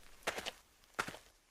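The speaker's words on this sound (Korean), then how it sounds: "조금 뒤 바스락바스락 발자국 소리가 들려왔어" Two soft, rustling footstep clusters sound close together in a quiet setting, each a quick scuffing pair of steps, faint overall.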